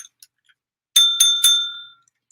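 A bell from a children's board game, rung three times in quick succession, bright, near and ringing, after a few faint taps and then fading into silence.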